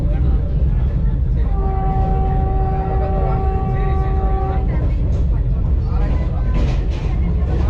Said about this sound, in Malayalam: Kasaragod Trivandrum Vande Bharat express Payyanur railway സ്റ്റേഷനോട് അടുക്കുകയാണ്.